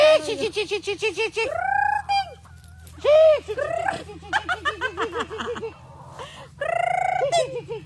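Chickens cluck and squawk repeatedly in a busy flock nearby, with a steady low hum underneath and a few bursts of louder calls.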